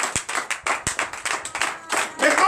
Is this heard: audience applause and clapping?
yes